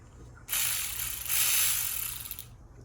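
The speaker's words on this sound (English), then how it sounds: "to open the big screws, it's T30, right? And just gonna remove them slowly." T30 screws being loosened from the valve cover of a 2013 Audi Q7 with the S4 engine, a close, loud ratcheting whir that runs for about two seconds, swelling midway, with no talking.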